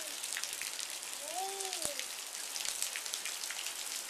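Steady rain from a Colorado rainstorm patters outdoors, a dense continuous hiss of drops with a brief faint whistle-like tone partway through.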